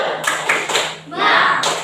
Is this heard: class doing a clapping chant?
yes